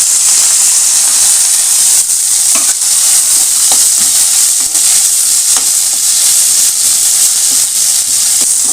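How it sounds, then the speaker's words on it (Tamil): Elephant foot yam (karakarunai) pieces sautéed in hot oil for chutney, making a loud, steady sizzle and hiss close up, with faint spoon scrapes ticking through it throughout. "அடுத்தது காராகருணையை போட்டு வதக்கிடலாம்"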